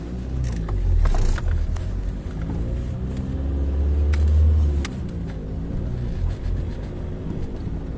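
An Opel Vectra pulls away slowly during a driving lesson, its engine heard from inside as a steady low rumble that swells gently with light throttle, close and continuous, with a few faint clicks and knocks.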